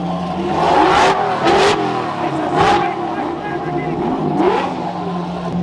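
A Lamborghini Huracán V10 engine is revved repeatedly, giving loud, close bursts of throttle that rise and fall several times. Voices are heard over the engine.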